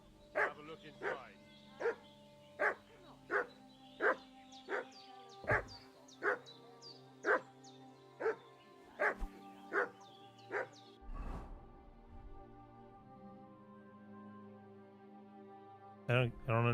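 A dog in the video game Kingdom Come Deliverance 2 barks in a long, evenly spaced series of about fifteen sharp, loud woofs, followed by a few quieter whines and game sounds, with speech in the clip.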